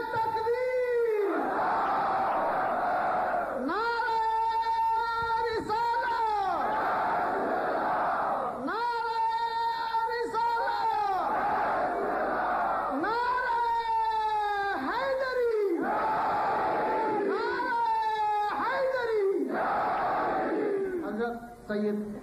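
A large crowd of thousands of devotees gathered in an imambargah chants a religious slogan in answer to a leader's call, loud swelling shouts repeated in a steady rhythm of roughly four to five seconds, alternating with a single voice calling out.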